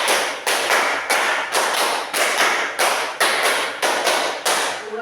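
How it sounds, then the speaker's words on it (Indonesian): A group claps a rapid five-clap pattern three times over, loud, crisp and evenly rhythmic, with no talking. "tepuk 5 3 kali"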